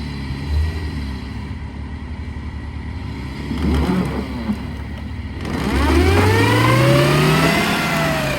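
A Duramax diesel truck engine idles roughly, catches and then revs up, its pitch climbing steadily in the last few seconds, loud and close, with no speech.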